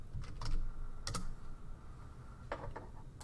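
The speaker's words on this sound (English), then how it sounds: "I'm going to type in slogan" Fingers type on a computer keyboard in quick bursts of clicks with short pauses between, close and fairly quiet, no voice.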